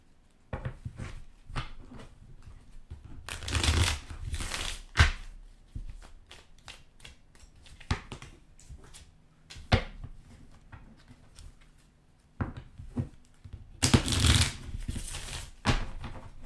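Tarot cards being shuffled by hand, with bursts of riffling at intervals and scattered soft taps and clicks between, close and fairly quiet, no talking.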